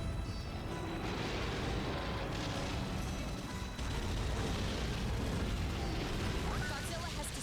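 Video game explosions as Godzilla wrecks generators, a dense rumbling wash of blasts and crackling bursts throughout, with a person talking over the destruction.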